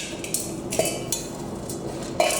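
A cooking pot is handled while preparing wheat kheer, giving a few light metallic clinks and knocks against utensils, spaced irregularly over a steady faint background with no talking.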